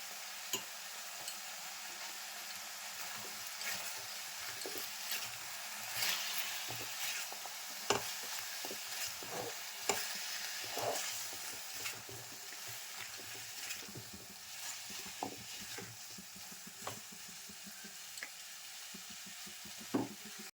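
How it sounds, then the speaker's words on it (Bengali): Chalta, or elephant apple, pieces sizzle quietly in oil with jaggery and salt for a pickle. The frying is a soft, steady crackle with scattered stirring clicks and taps throughout, and no voices. "চালতাগুলো ভালো করে ভাজা হয়ে যাবে তেলটাতে"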